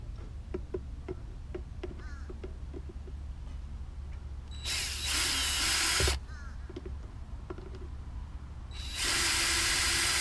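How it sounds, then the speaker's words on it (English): A spanner ratchets on a bolt and nut aboard a sailboat, giving rapid close clicking runs followed by two long, loud bursts of broadband hiss. "I need to use a spanner at the other end to hold the nuts."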